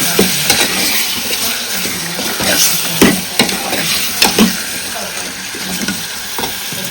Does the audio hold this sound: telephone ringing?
no